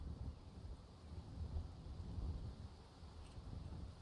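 Rain and rolling thunder in the video game Enshrouded, a steady low rumble with continuous rain hiss that holds at a moderate level throughout, with no voices.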